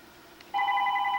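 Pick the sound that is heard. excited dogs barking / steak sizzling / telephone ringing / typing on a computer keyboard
telephone ringing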